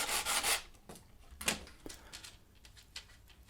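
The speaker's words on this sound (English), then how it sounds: "Sand if necessary to remove any lumps and bumps." A few short rubbing strokes of sanding along the freshly cut edge of a tube, a burst of scraping at first, then lighter, sparser rubs, close and fairly quiet.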